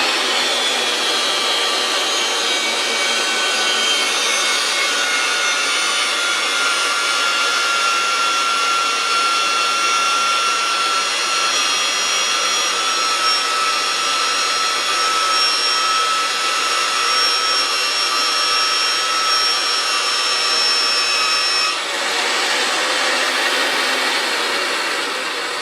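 A compact 115V pipe threading machine runs steadily while its die head cuts threads on oiled pipe, a loud continuous motor whine and grinding hum lasting throughout with a slight dip near the end, no voices.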